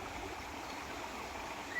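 River running through a forest, a steady broadband rush of flowing water that holds constant for the whole stretch, moderately distant and alone.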